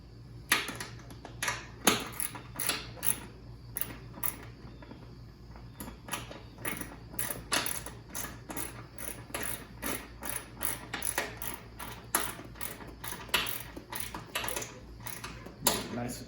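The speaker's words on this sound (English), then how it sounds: "our number 10 socket is going to be used to put this one bolt back in" A ratchet with a number 10 socket drives a bolt on a 2001 Yamaha V Star 650, giving long runs of rapid, crisp clicking in quick repeated bursts close up, with a steady low hum underneath.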